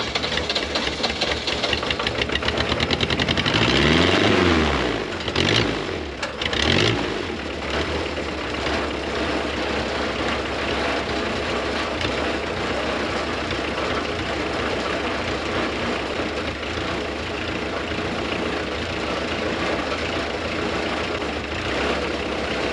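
A Nissan diesel swapped into an Oliver OC-3 crawler tractor runs steadily and loud up close, with a brief surge in revs early on and then an even, rough-edged idle that drones on to the end.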